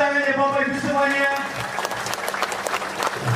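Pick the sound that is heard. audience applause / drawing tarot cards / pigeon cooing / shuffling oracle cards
audience applause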